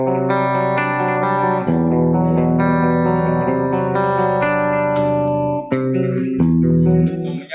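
An electric guitar on its neck pickup, run through an Overloud TH2 amp simulator, plays sustained ringing chords and notes with a warm, deep tone, some reverb and echo, loud and alone with short breaks between phrases.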